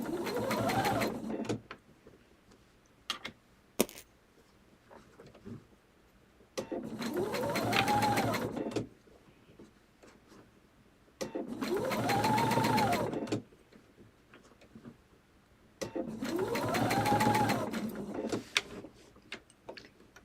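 A sewing machine stitches binding along the folded edge of a table runner in three steady whirring bursts with quiet pauses between them, close up, with no talking.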